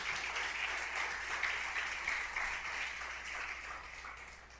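A church congregation applauds during a sermon on grace, a steady wash of many hands clapping at moderate distance, fairly even throughout and fading slightly at the end.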